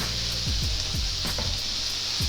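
Steak fries in olive oil in a pan, giving a loud, constant close sizzle with a few soft knocks and low thumps from the pan underneath.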